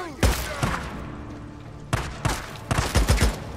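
Gunfire in the video game Days Gone cracks out as a single shot, then after a pause a rapid volley of shots, loud and sharp.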